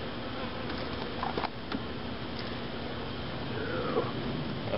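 Honeybees buzzing around an open hive during a summer hive inspection, a steady, close, dense drone of many wings with a few louder passes from individual bees flying near.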